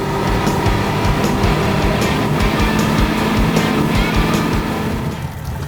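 A 25 X3 boat runs on the water on the way to stone crab traps, its outboard engine droning loud and steady with rushing wind and water noise throughout, easing slightly at the end.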